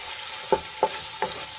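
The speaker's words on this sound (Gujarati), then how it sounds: "બધા મસાલાને આપણે એક મિનિટ માટે સાંતળી લઈશું" Spices sautéing in a pan for gravy, a steady soft sizzle with three light stirring scrapes spaced about a third of a second apart, close and quiet.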